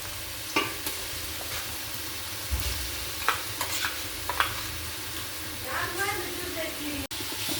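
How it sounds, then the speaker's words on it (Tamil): Onions sautéing in a frying pan for a Sunday lunch, a steady sizzle with scattered scrapes and stirring knocks from a spoon against the pan, close and moderately loud, with faint voices in the background. "வெங்காயம் நல்லா வதங்கி போட்டு கட்டலாம்."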